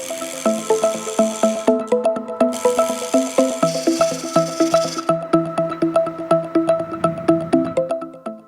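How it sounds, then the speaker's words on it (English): A square Merbau and messmate blank spins on a wood lathe as a tool cuts its corners round, giving rapid, evenly spaced knocks in a steady rhythm, close and clear. "this time I wanted to try going from square to round on the lathe"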